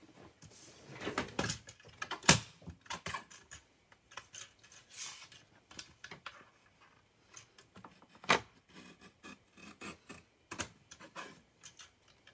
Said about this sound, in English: Mini trimmer.